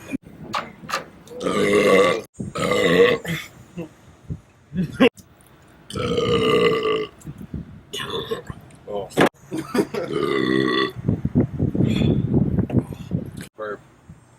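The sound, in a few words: loud burp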